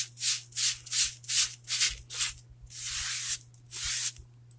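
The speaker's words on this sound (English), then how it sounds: "Now I'm going to grab a cleaning wipe and I'm just going to go right over the top of it." Cleaning wipe rubbed in quick back-and-forth strokes over a silkscreen to lift excess chalk paste, about ten close, crisp swishes at a steady rhythm, with one longer drawn-out rub near the end, over a faint low hum.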